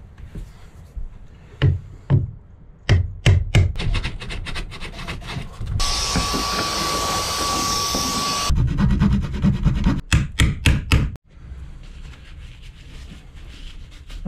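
Milwaukee reciprocating saw with a finer blade cutting wooden boat trim during a boat restoration, heard as bursts of rough rasping strokes and a sustained buzzing run, close and fairly loud.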